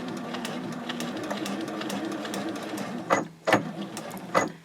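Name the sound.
sewing machine sewing across a project bag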